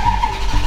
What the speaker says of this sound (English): Obviously we'll start the car. Hopefully it starts okay.